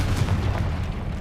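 A booming fire spell explosion from Hogwarts Legacy bursts loud and close, a single heavy low-end blast with crackling debris filling the short moment.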